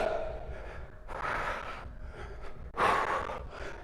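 Two sharp, breathy gasps, the second louder, during a dumbbell core workout, standing out over a steady background bed.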